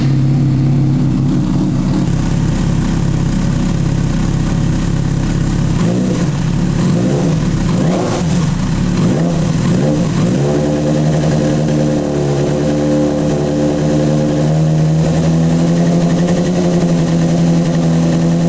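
A Yamaha Fazer 600 motorcycle engine in for radiator cleaning and coolant change starts up, revs in several rising and falling bursts, then settles to a steady idle, close and loud with no talk.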